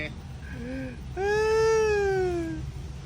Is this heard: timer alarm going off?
no